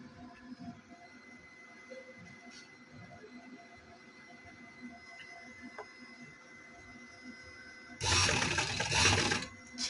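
A sewing machine stitches cotton fabric for summer trousers in a short, loud, dense burst near the end, after a long stretch of quiet room noise.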